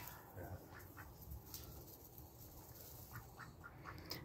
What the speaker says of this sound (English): These birds are so smart.